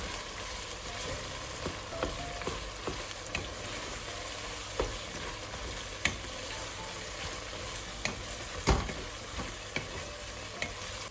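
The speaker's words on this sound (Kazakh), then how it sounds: "Жақсылап 1-2 минуттай қуыратын боламын." Onions with about two tablespoons of soy sauce fry in a pan for Uyghur fried tsomian lagman, a constant low sizzle punctuated by regular stirring scrapes and spatula knocks, close and alone without talk.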